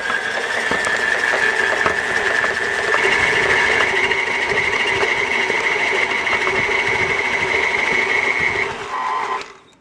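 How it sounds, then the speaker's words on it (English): A stand mixer fitted with a finned beater blade churns thumbprint cookie dough with a steady, loud mechanical whir that holds evenly for several seconds before winding down and stopping at the end. "get that in the machine. And just mix this until it's combined."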